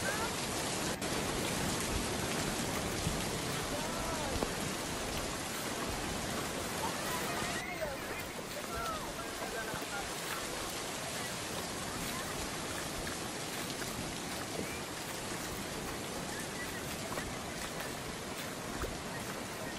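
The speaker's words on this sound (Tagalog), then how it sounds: "Uy, paano yan? Umuulan na." Heavy rain pours steadily outdoors on Batanes island, a dense, close hiss of drops drumming on surfaces throughout, with people talking faintly underneath.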